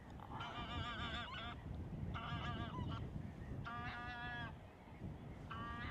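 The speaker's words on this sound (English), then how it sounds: "got two geese coming at me now in flight." Geese honk repeatedly in bursts overhead as a pair flies past, harsh nasal calls over a steady rushing wind or background noise, moderately distant, at a nature reserve.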